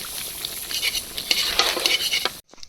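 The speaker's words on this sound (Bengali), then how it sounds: "আমার মাংস প্রায় শেষের দিকে, ভালো করে শুধু কষায় নিতে হবে।" Chicken curry being stirred and sautéed in a pot at an outdoor village picnic, with steady scraping, clinking spoon-on-metal and a soft sizzle, fairly close, continuous until a sudden stop near the end.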